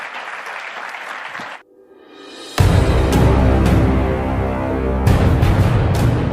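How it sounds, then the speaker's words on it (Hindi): A large crowd at a political rally breaks into loud, sustained applause welcoming Amit Shah after a brief lull, clapping steadily with a few sharper bursts. "जोरदार तालियों के साथ स्वागत कीजिए"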